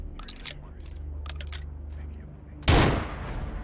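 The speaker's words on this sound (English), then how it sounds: "So here I'm buying a shotgun, and now I can use it." A shotgun fires once in the VR shooter Zero Caliber, a loud sudden blast near the end that decays over a second, preceded by quieter mechanical clicks and handling noises.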